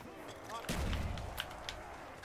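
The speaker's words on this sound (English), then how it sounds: "Let's try and take him out with some nades." Grenade explosions in Call of Duty Black Ops Zombies on the Shangri-La map: a loud blast with a low rumble rolling out about a second, followed by fainter crackles and pops in the game mix.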